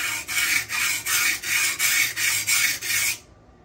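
Knife blade drawn across a Buck Honemaster sharpener: eight even, rhythmic rasping strokes in quick succession, close and clear, then sudden quiet.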